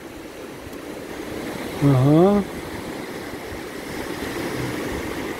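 Autumn sea surf rolls onto a beach as a steady broadband wash of breaking waves under wind, with one brief spoken interjection partway through.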